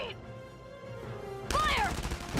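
Gunfire in the war game Valkyria Chronicles 4: loud bursts of shots start abruptly midway, preceded by music and followed by continuing clatter.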